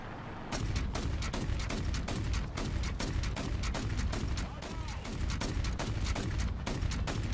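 Gunfire from a ZIS-43 half-track in the War Thunder tank game, a rapid rhythmic string of loud close shots with brief pauses, under steady engine rumble and no talk.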